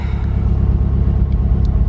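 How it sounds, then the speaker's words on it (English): A Mazdaspeed 3 with an ATP downpipe and intake idles close by, giving a steady, deep throbbing rumble with an even pulse and no revving. "it's idling pretty fine."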